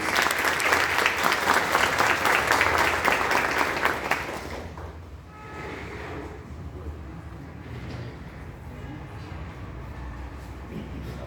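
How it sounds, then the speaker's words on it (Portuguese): Auditorium audience at a seminar applauding its city councillors, loud dense clapping for about four seconds that cuts off abruptly, leaving room murmur and faint voices. "Uma salva de palmas para os nossos vereadores"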